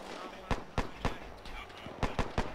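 Gunfire rings out in a World War II shooter game set during the escape to Dunkirk, with about seven sharp single shots spaced irregularly over a low background hum, moderately distant and fairly quiet.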